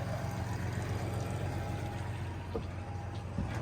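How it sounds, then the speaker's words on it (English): A Yamaha outboard motor on a Beneteau Antares 8 fishing boat idles with a steady low rumble while its tell-tale stream of water splashes out the side, a continuous close wash of noise throughout. "Spitting water out the side."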